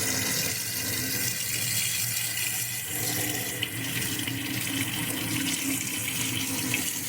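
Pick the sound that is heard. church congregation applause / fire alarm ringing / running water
running water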